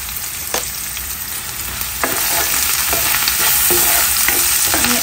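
Onions and chopped green chilies frying in a hot pan with salt, a steady loud sizzle with occasional stirring scrapes and clicks throughout.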